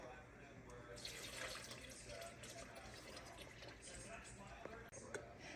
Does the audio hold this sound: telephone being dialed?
no